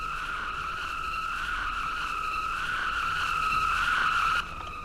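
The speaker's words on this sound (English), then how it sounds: "I do find it very funny how the burnouts in this game work" Tire squeal from a car burnout in a NASCAR racing video game, a loud sustained screech that swells steadily before cutting off sharply near the end.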